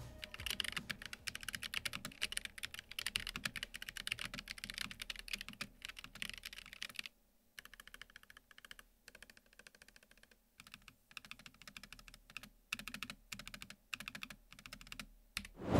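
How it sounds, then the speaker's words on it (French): Steady, fast typing on a Keychron K3 Pro mechanical keyboard, crisp clacky keystrokes up close, briefly pausing midway before resuming in irregular bursts. "je vous laisse écouter le son de ce clavier."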